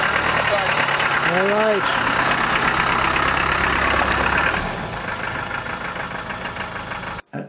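A Land Rover engine idles and rumbles on a rough road in rural Jamaica, a steady mid-pitched drone that drops slightly partway through, with someone speaking briefly over it.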